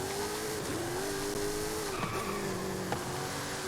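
In Forza Horizon 5, a DeLorean DMC-12 race build with a twin-turbo V8 engine skids through a turn, tires squealing over the steady engine drone, with a few sharp scrapes and bumps.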